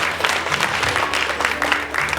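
An audience at a school education roundtable forum claps steadily and loudly throughout, a dense wash of many hands applauding together with some crowd murmur.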